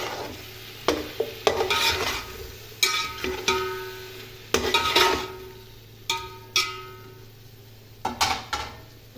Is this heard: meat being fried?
yes